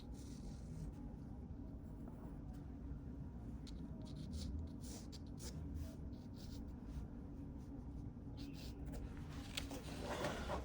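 A pencil drawn by hand across paper, sketching for a nocturne watercolor of Parisian rooftops, gives a steady, close, soft scratching and rubbing that runs throughout with small stroke accents.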